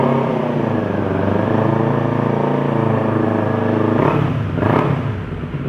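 A 2019 Kawasaki Z400SE motorcycle fitted with an aftermarket oval slip-on exhaust runs steadily near idle, close and loud, with a low, even engine drone and two brief throttle blips toward the end.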